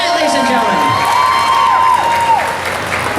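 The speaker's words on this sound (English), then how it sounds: "Round of applause for that, ladies and gentlemen" Sustained applause from a comic convention audience at Ocala Comic Con fills the space, with scattered cheers and whoops riding over the steady clapping throughout.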